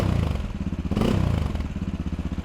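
A 2018 SWM Superdual T single-cylinder motorcycle with twin exhausts idling close by with a steady, lumpy thump, briefly blipping the throttle before settling back to its chugging beat.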